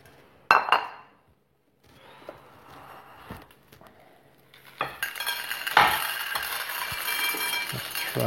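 A bowl being handled near gravel and yogurt, with sharp clinks and knocks at first, a quiet scraping pause, then louder rattling and clattering handling noise close by.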